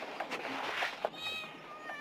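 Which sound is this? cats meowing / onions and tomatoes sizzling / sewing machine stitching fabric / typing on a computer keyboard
cats meowing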